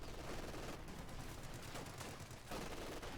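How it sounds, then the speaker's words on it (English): Artillery and gunfire rumble through a Company of Heroes 2 battle, a dense, continuous barrage of overlapping blasts and shots with no pauses, heard without any talk. "Plus some other artillery shot there from Mando, who's clearly playing the artillery game here."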